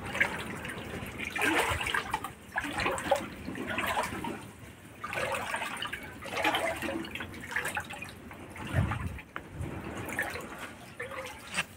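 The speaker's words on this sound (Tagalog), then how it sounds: "itong dinadaanan natin ngayon na tubig, halos nasa legs po yan" Someone wades through leg-deep typhoon floodwater in a flooded narrow alley, making irregular sloshing and splashing surges of water that rise and fall in waves, close by and with no speech.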